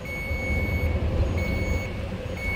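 Turn signal on a Segway P100S electric scooter sounds a steady, loud electronic beeping tone, continuous and close with background noise.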